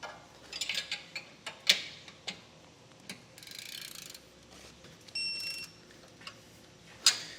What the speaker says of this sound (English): Now we're going to come back and torque everything down to our specifications and our instructions.